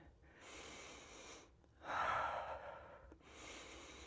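Slow, deep breathing during a yoga twist in a flow sequence, with three long airy exhales or inhales separated by short pauses, the middle one loudest, close and quiet, with no talking.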